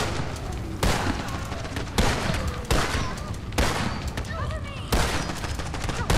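Shotgun blasts in the video game Blackout Protocol: about five loud, evenly spaced booms, each followed by a short ring-out, over continuous game noise.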